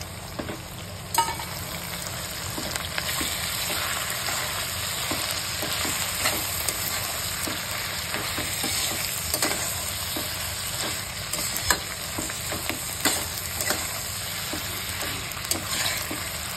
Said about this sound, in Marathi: कढीपत्ता पण घालायचा भरपूर आणि कोथिंबीर घालायची. सगळं हे आपल्याला चांगलं परतून घ्यायचं आहे मस्त.